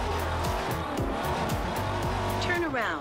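A car in Forza Horizon 2 drives with a steady, loud engine roar and tire squeal throughout, while a person talks over the driving.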